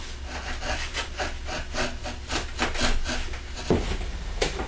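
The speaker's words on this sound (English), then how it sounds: "now I'm using my chisel just to put the pyramid type shape or a parabolic top section to them" A chisel rasps and scrapes steadily against a wooden guitar soundboard brace in quick repeated strokes, close and fairly loud, with no talking.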